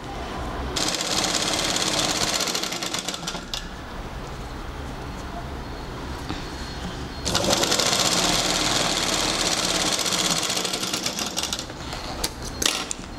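A sewing machine stitches a French seam in a tailoring class, running as a steady, fast mechanical whir with a rapid needle rhythm that speeds up in two longer bursts.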